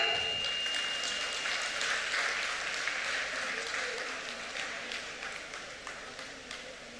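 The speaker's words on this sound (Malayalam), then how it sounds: "നല്ലൊരു കയ്യടി കൊടുക്കാം" Audience applause for a prize winner at a stage award ceremony: dense, sustained clapping from a crowd that stays loud throughout and eases slightly toward the end.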